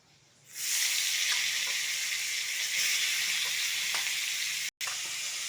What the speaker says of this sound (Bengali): এরপরে আলুটাকে ভেজে নেব।